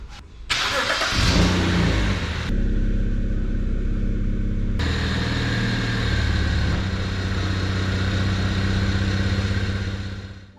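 A BMW E92 325i M Sport engine, rebuilt after a wreck and just serviced, cranks and catches, then settles into a steady, close, loud idle with a brief rev partway through, no talking.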